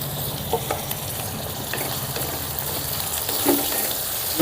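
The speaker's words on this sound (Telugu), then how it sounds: "టమాటా ముక్కల్ని మెత్తబడేంత వరకు ఒక రెండు నిమిషాలు బాగా ఉడికించుకున్నాం" Small tomato pieces sizzle in a pan as they cook down soft, with steady close frying crackle and a few stirring scrapes and pops throughout.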